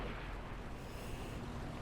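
Cannon fire from the SU-122-44 tank destroyer in a tank video game, a heavy sustained boom and rumble filling the short moment with dense low-end roar and no clear separate shots.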